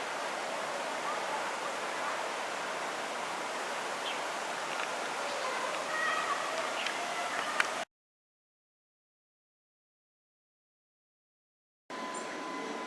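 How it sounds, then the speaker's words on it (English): Floodwater rushing past in a park after Hurricane Milton: a steady, broadband watery roar for several seconds, cut off by a stretch of silence, then resuming. "you can see the water just washing on by"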